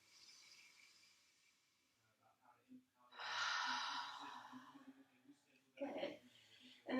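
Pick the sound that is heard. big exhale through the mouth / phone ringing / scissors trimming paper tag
big exhale through the mouth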